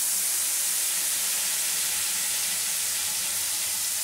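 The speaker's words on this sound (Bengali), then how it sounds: "এবারে এর মধ্যে আমি দিয়ে দিচ্ছি পেস্ট করে নেওয়া মশলাটা।" Spice paste fries in hot oil with black cumin for a Bengali fish and brinjal jhal, giving a steady, close, bright sizzling hiss that holds evenly throughout with no voices.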